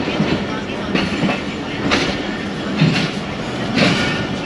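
The 39UP Jaffar Express pulls out of Wazirabad station on a single-line track, its wheels beating out loud, close, rhythmic clickety-clack over a steady rumble of the moving coaches.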